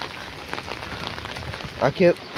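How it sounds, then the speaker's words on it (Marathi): Heavy morning rain falls as a steady, dense hiss on a street outdoors. A voice speaks briefly near the end. "सकाळी सकाळी इतका जब्बर पाऊस आहे"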